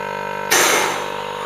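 A homemade vacuum pump switches on abruptly and runs with a loud, broad rushing hiss over a steady low hum, easing off slightly as it continues alone.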